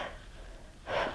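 A forceful breath pushed out during a Pilates oblique pulse at a 45-degree twist: soft breathy noise early on, then one strong, near exhale toward the end, with no talk.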